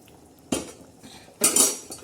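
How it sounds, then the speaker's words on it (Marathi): A metal spoon stirs curry in a pot, giving two distinct bursts of clinking and scraping against the pot's side, close and clear with no talk. "आणि छान असं हलवून घेणार"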